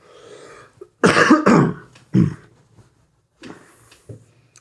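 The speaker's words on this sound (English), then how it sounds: "I'm just going to cough." A person coughs several times up close in short harsh bursts, with some light breathing and throat sounds around them.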